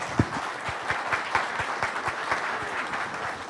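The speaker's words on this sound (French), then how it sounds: "On va applaudir le CSTB pour cette vraiment une évolution." A conference audience breaks into applause, a crowd of hands clapping with a few sharper nearby claps standing out at the start, sustained throughout.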